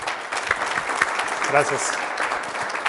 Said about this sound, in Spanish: pues un aplauso, compañeros